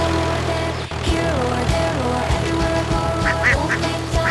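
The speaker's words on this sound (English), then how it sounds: "And there are ducks swimming!" Ducks in a children's farm song quack repeatedly in short, lively bursts over a steady musical backing, close and clear.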